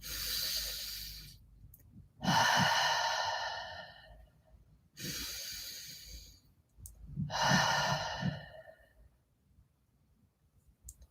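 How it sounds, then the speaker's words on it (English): Two slow, deep breaths taken during a yoga session, each a long audible inhale followed by a soft, sighing exhale, close and quiet with no talking. "Take 2 deep breaths in."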